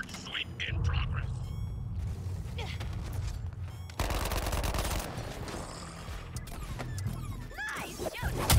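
Bursts of rapid gunfire in Suicide Squad: Kill the Justice League mix with mechanical clatter and whooshing effects, with voices talking over the din.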